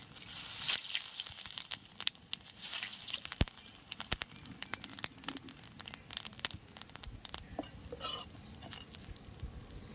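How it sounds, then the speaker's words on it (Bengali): Whole bay leaves and cumin seeds frying in hot oil, with a steady close sizzle broken by sharp crackles and pops throughout. "ভাজা তেলের মধ্যে দিয়ে দিচ্ছি গোটা তেজপাতা, গোটা জিরে"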